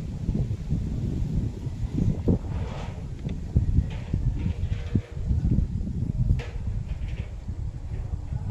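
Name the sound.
wind after a typhoon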